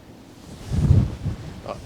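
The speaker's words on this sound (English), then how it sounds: "Wind might be just a bit too much right now" Strong wind gusting outdoors on an island by the sea, a brief rumbling buffet that swells and fades, with wind striking the microphone.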